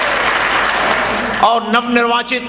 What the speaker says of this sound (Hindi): जोरदार तालियों से इस्तकबाल कीजिएगा।